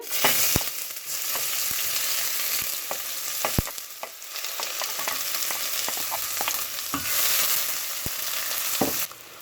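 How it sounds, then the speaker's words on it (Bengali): Chopped onion frying in hot oil in a pot gives a loud, dense, continuous hiss with occasional sharp pops and spatula taps, close up and uninterrupted by talk. "তেলটা গরম হয়ে আসছে, এখন অ্যাড করছি পেঁয়াজ কুচি"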